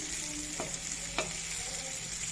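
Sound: chicken tandoori roasting with little oil and ghee

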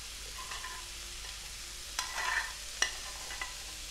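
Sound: stewed cabbage sizzling as it goes into the frying pan

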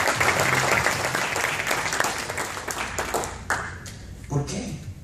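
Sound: audience applause

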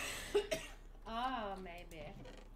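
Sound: cough

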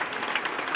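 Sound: theatre audience applause

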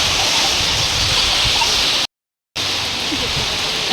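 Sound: heavy rain

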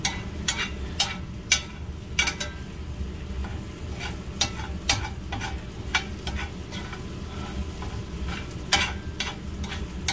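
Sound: eggs frying and being stirred in a pan

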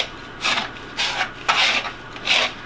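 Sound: whisking ingredients in a bowl for honey bun cake

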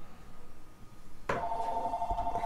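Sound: telephone ringing

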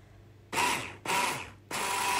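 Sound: sifting flour with a crank sifter

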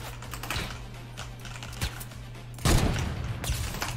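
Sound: gunfire in the video game Fortnite

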